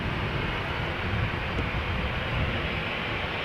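A KLM Boeing 737-700 at Amsterdam Schiphol Airport, a steady low engine rumble and roar heard at a distance, continuous without a clear rise or fall.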